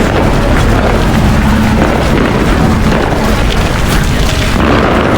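Continuous booming and crackling from New Year's firecrackers going off at a distance in Greenland, a dense rumbling wash of bursts with wind noise.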